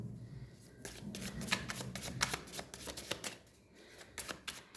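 Tarot cards being shuffled and drawn by hand, with a quick run of riffling and flicking card sounds heard up close, and a faint voice in the background.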